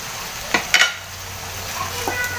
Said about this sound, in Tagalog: Ayan, haluin lang natin guys. Lalagay ko na din guys yung repolyo.